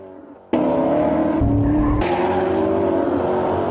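Ferrari F430 loudly sliding on a track, a continuous engine roar with tyres squealing through the slide, starting abruptly and holding close and intense throughout.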